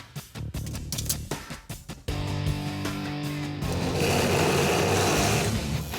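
A saw cutting through the center of welded scrap steel tubing during a drag car transmission mount build. It starts with short bursts, then settles into a sustained, loud mechanical whine, with nobody talking.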